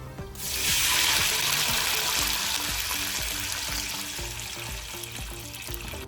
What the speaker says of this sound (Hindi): और चला जाएगा इसमें पानी।